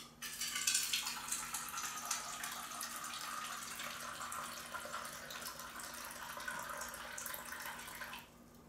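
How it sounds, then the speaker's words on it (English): Water from a tap or hose spraying onto the ground outdoors, a steady close rushing hiss that starts abruptly and cuts off near the end, with no talk. "I'm just going to put it on the ground and shoot water right into it."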